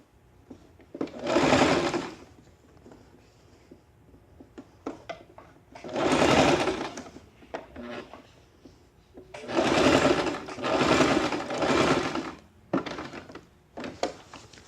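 A sewing machine stitching a draped jacket around a curve, close bursts of rapid mechanical stitching in four main runs of a second or more, separated by short pauses and small clicks, with no talk.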